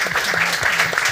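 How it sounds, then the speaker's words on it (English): Audience applause for the guests at the close of an urban mobility panel discussion: a steady wash of clapping from a crowd, with a faint voice murmuring underneath. "Please give a big round of applause to our guests for this amazing discussion"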